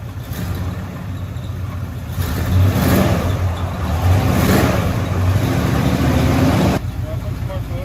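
A 1972 Chevrolet Cheyenne C20 pickup that had sat for 16 years revs its engine and drives. The loud, close motor roar swells in the middle and then eases, with people talking over it.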